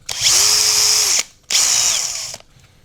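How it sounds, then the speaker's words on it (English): A small drill bit in a scroll saw whines in two steady bursts, each about a second long, separated by a brief pause, close and loud. "smaller drill bit, and we'll also use this one to cut our trees"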